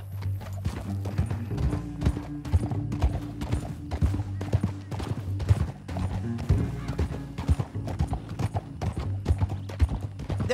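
Horse galloping in Red Dead Redemption 2, with loud, close, rapid hoofbeats in a steady rhythm throughout and a low tonal hum underneath.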